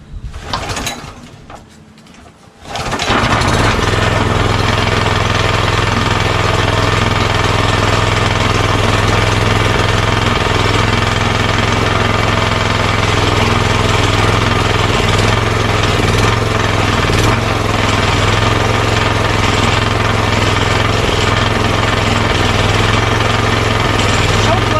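Honda GX340 11HP pressure washer engine catching and running, a steady loud drone that holds without pause after a brief quieter start, with rough mechanical clatter throughout.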